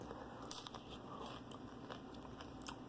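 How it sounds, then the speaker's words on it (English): Close chewing and crunching of a Jack's supreme pizza, with steady broadband crackle and soft bites spread evenly through the clip, no talking. "I'm just gonna hear sounds of me just munching away because I'm really hungry"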